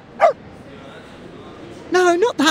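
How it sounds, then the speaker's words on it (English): A border collie in the game Reverse 1999 gives a single short yip, followed after a pause by a louder burst of quick, whimpering barks, close and clear. "Look at the border collie."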